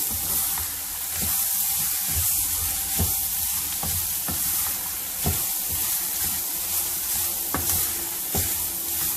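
Carrot and onion uttappam frying in a pan, a steady close sizzle with broadband hiss throughout and occasional soft clicks, no voices.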